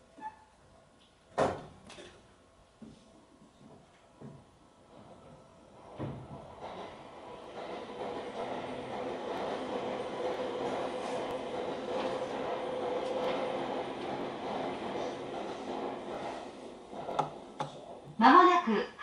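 A Seibu Chichibu Line train pulling out of Hanno station, a few door thumps and clunks, then a steady rising rumble and hum of the motors and wheels heard from inside the car, ending in louder clatter.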